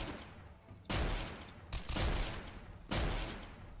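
Honey Badger assault rifle gunfire in the Trouble in Terrorist Town game, with three loud bursts of rapid shots separated by short pauses.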